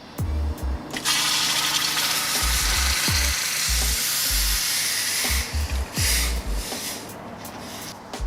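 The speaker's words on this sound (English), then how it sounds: "Now let me go ahead and add my hot water here." Hot water poured into the water pan of a smoker while preparing country-style ribs, a steady broadband hissing, sizzling pour close by, with low thumps and knocks from handling the equipment throughout.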